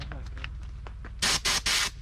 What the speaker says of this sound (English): Bear spray practice.